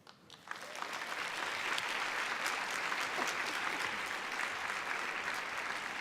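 An audience bursts into applause for Dr. Queen Blessing Itua, starting quickly and holding as a dense, even round of clapping for several seconds without any voices.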